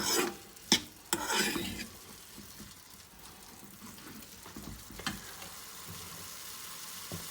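A spoon stirs and scrapes chicken spring roll filling with soy sauce in a hot pan, giving a quiet sizzle with a few sharp clanks and scraping strokes near the start and a soft frying hiss after.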